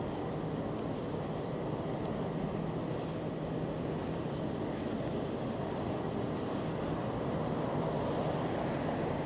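Bitter winter wind roars steadily along a downtown Toronto city street, a loud, continuous rushing buffet against the microphone with no letup and no voices.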